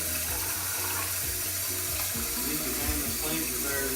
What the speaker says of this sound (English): we are washing the tomatoes in the sink